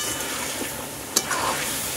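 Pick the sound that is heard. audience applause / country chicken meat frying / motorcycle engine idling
country chicken meat frying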